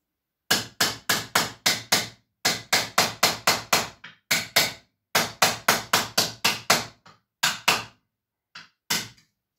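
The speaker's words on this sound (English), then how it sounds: "Also can hammer from the inside to smoothen it out." Steel Viking helmet hammered from the inside to smooth it: rapid bursts of sharp metallic blows in quick groups of four to six, close and loud, with short pauses between runs and a few isolated final strikes.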